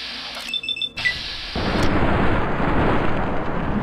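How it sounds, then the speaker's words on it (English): A heavy gunshot from Boone in Fallout: New Vegas bursts out loud, then a rough, sustained roar of noise follows and carries on without break. "I hear him busting shots"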